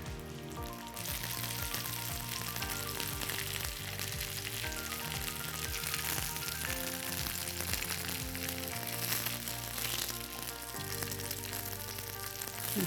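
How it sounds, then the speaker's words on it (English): Sesame-crusted tuna sears in a hot pan, a steady close sizzle and crackle of frying running the whole length with no talk over it. "we don't want to overcrowd the pan in order to make sure that we get a nice sear on each side"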